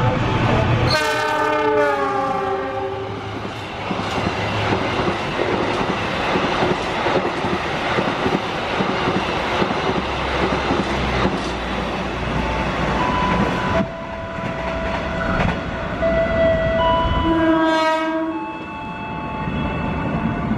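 The Argo Lawu express passenger train rushes past with a loud horn blast and steady rumbling, clattering wheels, the horn sounding again as it moves away.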